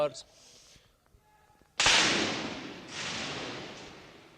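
A loud, sharp gunshot bursts out after a quiet stretch and echoes, with a second volley rolling in shortly after, reverberating across open space.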